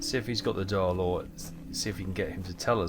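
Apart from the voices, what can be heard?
No everyday noises stand out.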